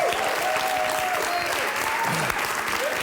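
Studio audience at a live talk show claps briskly, with a few whoops rising over the dense, even applause for about three seconds.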